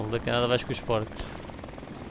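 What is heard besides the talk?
helicopter in video game Call of Duty Modern Warfare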